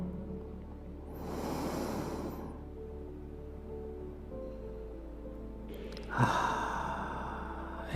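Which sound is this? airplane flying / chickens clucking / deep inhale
deep inhale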